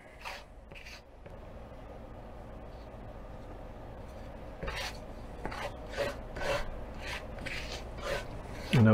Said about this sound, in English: Notice how I'm scraping the bottom of that pan.